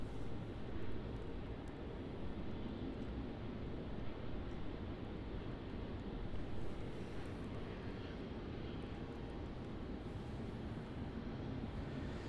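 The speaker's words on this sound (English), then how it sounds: "So we now have Etihad taxiing up to the end of runway 34" An Etihad airliner taxiing toward the runway threshold at Melbourne Airport gives off a steady, distant jet-engine rumble and whine, constant and moderately faint, mixed with outdoor wind noise.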